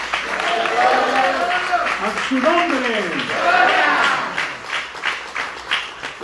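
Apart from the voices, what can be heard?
congregation applauding in church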